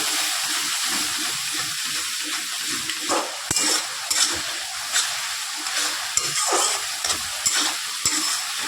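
Spoon stirring yogurt into a sizzling spice paste for a Bengali pointed gourd and egg curry, a steady frying hiss with scraping clicks from the utensil, close up and with no voices.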